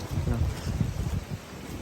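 Heavy rain pours down in a rainstorm with thunder, a dense close hiss that rumbles underneath and holds steady throughout.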